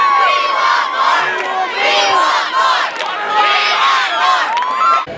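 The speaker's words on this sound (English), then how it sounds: "I like what the crowd is cheering behind them." A loud crowd of students chants and cheers in rhythmic waves at a Liberty Center school sports game, many voices shouting together up close in repeated bursts.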